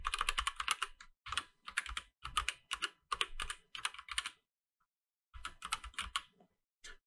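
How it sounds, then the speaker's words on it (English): Someone types on a computer keyboard while entering an email address in a Linux terminal during a Git setup on Ubuntu, giving close, rapid bursts of clicking keystrokes separated by short pauses, with no voices. "we'll need to type our email over here"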